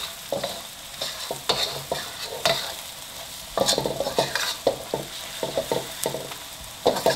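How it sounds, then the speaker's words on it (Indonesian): A spoon scrapes and stirs spice paste for mie ayam frying in a pan, with steady sizzling and rhythmic clinks and scrapes repeating throughout, close and clear, with no talking. "Aduk terus sampai bumbunya mulai apa ya, mengental ya."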